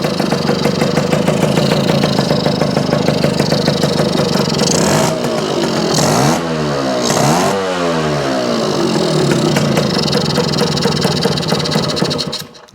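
Yamaha YJ2 motorcycle engine idling close by, a steady loud two-stroke putter that holds throughout, with a brief rise and dip in revs around the middle before settling back to idle.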